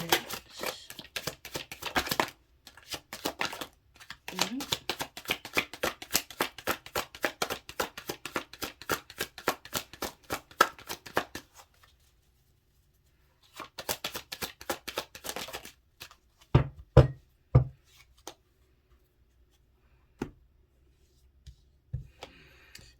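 A Rebel tarot deck is shuffled close up in long runs of quick, rhythmic card flutters, broken by a few seconds of silence, then more shuffling and several sharp, separate taps and flicks of cards.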